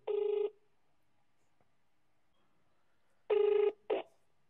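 Two bursts of a telephone ringback tone play while a mobile call to a father's phone connects, a long ring at the start and another after a quiet pause, followed by a short clipped tone. No one speaks.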